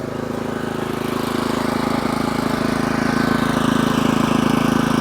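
A topdressing spreader's engine drones steadily and loudly up close, a constant mechanical hum with a rapid pulsing texture from the running conveyor and spinning paddles, no voices over it.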